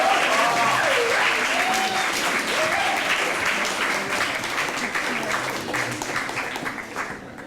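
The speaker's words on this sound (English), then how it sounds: "So give it up for Clarissa and Chris." Audience applause at a live talk event, a steady wash of clapping from a crowd that fills the whole stretch and gradually thins toward the end, with a few faint voices underneath.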